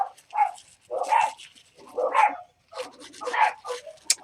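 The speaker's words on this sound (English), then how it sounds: "every time I start a video, my dogs just need to bark" Several dogs barking in repeated bursts, four or five loud yapping volleys spaced about a second apart, fairly close, with a brief whimper-like sound near the end.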